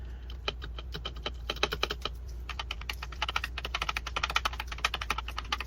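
Rapid, uneven keystrokes clatter on an EVGA Z12 RGB gaming keyboard, close and steady, over a low hum with no voices.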